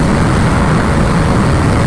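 A Bajaj Pulsar RS200 motorcycle running at high speed in sixth gear on the road, giving a steady, loud broadband roar of engine and wind rush that holds constant throughout with no speech.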